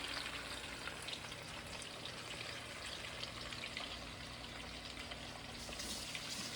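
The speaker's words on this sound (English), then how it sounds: "Just the onions and peppers. So we're going to let it cook for a good while." Onions and peppers cooking in a pan on the stove, a soft, steady sizzle with faint crackles, quiet and continuous with no talking.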